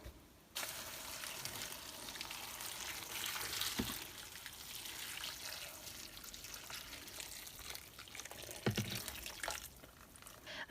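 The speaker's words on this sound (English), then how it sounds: "Now boil some water and pour on top." Boiling water is poured from a kettle over roughly chopped paper pieces in a jar for handmade paper, giving a soft continuous splashing trickle with a couple of brief clinks, faint and close.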